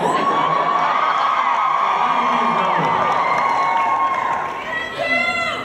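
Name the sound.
Comic Con audience cheering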